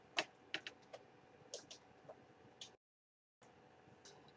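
Light keyboard typing, a few soft scattered keystrokes, faint and close in a quiet room, with a brief dropout of silence partway through.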